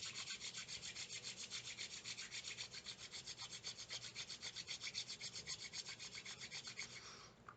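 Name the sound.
rubbing palms together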